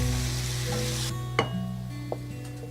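Wilting vegetables for Thai rad na gravy noodles sizzle steadily in a hot pan, a continuous close frying hiss with a couple of brief clinks from stirring.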